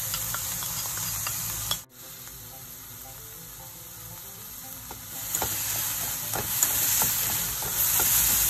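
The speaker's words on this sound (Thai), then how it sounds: "ผัดแครอทให้นิ่มค่ะ" Onion and carrot stir-fry in hot oil in a pan, a steady close sizzle punctuated by scattered scraping and clicking stirring strokes, growing slightly louder toward the end.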